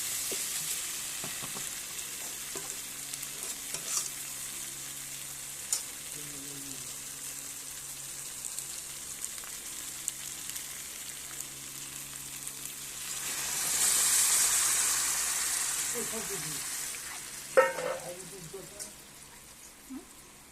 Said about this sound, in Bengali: ঝোলটা ভালোভাবে ফুটছে।